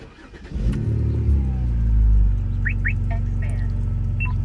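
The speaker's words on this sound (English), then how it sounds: "That's why it sounds the way it sounds." A modified BMW E90 engine with an aftermarket exhaust starts up and revs loudly with a deep, rumbling exhaust note, swelling then settling into a throaty idle, with brief chirps in the background.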